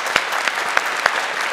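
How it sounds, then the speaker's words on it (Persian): Studio audience on an Afghan Family Feud-style game show applauding: dense, steady clapping from a crowd with a few sharper individual claps standing out, no voices. "کف بزنیم به افتخارشان."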